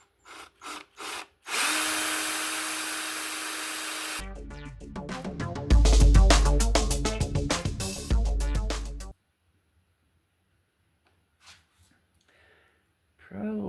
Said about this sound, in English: you can just do like I'm going to do and just drill them